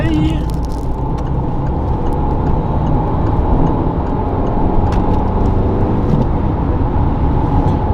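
A car merges onto an expressway, its steady engine and road roar loud and continuous from inside the cabin, with a voice speaking over the drone.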